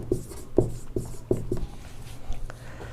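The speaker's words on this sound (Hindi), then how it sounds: "हम डिड नॉट यहाँ लिख देते हैं" A marker or chalk taps and scrapes on a board during an English grammar lesson, a few sharp distinct strokes in quick uneven rhythm, close and clear against a low background hum.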